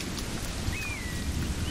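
Storm in the video game Assassin's Creed Rogue, with steady heavy rain hissing across the whole scene and a faint whistling tone passing briefly above it.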